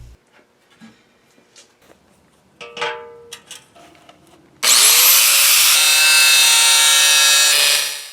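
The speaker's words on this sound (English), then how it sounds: "Then I traced it onto my 5/16 or 8mm stock and cut it out with the little angle grinder" A small angle grinder cuts 8mm steel stock for a Roman gladius sword blade. Scattered handling knocks and scrapes come first, then the grinder starts with a loud rising whine and holds a harsh steady screech until it stops.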